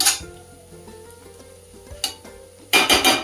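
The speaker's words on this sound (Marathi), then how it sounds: "तोही छान परतून घ्यायचा." A spoon scrapes and stirs pav bhaji masala in a pan, with faint sizzling underneath, ending in a few louder bursts of scraping and frying noise.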